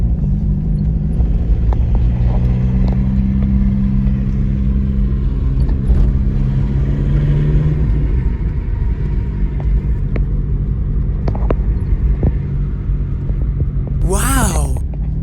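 A VW Golf 3 1.9 TDI diesel fitted with a Passat turbo drives on a warm-up run, its engine a steady low rumble with a rising whine midway and a brief sharp noise near the end.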